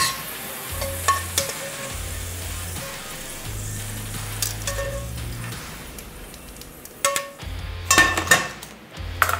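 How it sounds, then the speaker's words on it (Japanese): Garlic chips fry slowly in hot oil with a soft, steady sizzle, punctuated by stirring and the clink of a utensil against the pan, close and without any voices. "火力が強すぎると焦げてしまうのでじっくりとね揚げていきますよ"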